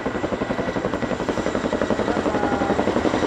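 An RAF Chinook helicopter flying a display at the Cosford Airshow 2018, its twin rotors giving a steady, rapid blade chop that stays loud and close throughout.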